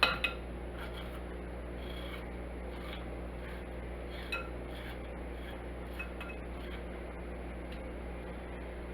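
Corn kernels being scraped off the cob for fried corn, a faint, steady rasping with a few light clinks of utensils against a dish over a constant kitchen hum.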